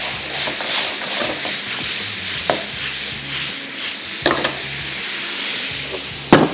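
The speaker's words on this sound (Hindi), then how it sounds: "तो हल्का सा फ्राई किया।" Fish frying lightly in a pan over high heat, a steady loud sizzle with occasional spoon scrapes and a sharp clack near the end, close by and with no talk.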